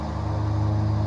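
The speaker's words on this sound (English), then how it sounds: "I'm not gonna apologize for that lawnmower noise." Lawnmower running nearby on a park disc golf course, a steady low droning engine hum held at even loudness through the brief moment, with no speech.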